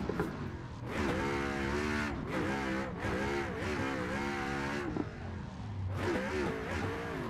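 A Fun Haver RTR Pro Mustang from Vicari rips around and rotates quickly, its motor revving and surging in loud continuous waves that rise and fall with short breaks between pulls.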